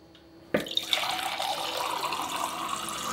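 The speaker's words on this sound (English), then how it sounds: "So you can see how much faster the flow is" Water gushes steadily from a reverse osmosis drinking water faucet into a sink, running with two storage tanks feeding it. It starts abruptly after a brief quiet moment, then holds as a close, continuous stream with no talk.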